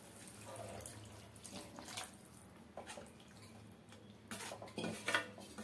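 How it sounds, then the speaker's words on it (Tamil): Water is poured into a pot of egg curry in a home kitchen, with faint trickling and splashing alongside metal pot and utensil clinks, heard close and quiet with no speech. "இப்போ குழம்புக்கு தேவையான தண்ணி சேர்த்துக்கலாம்"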